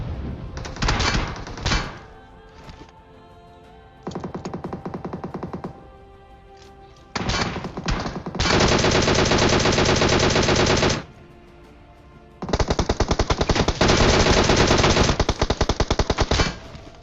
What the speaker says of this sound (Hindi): पूरे 4 बंदे थे, रिवाइव हो चुके थे, चारों मेरे पे फायर करने लगे